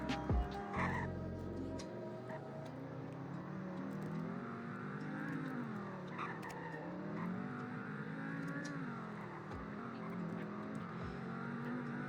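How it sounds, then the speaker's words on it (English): A steady five-cylinder car engine drone in a video game, with rising and falling pitch throughout, a smooth multi-cylinder note heard alone at moderate loudness. "5 cylinders, so it sounds pretty cool. Sounds like a V10."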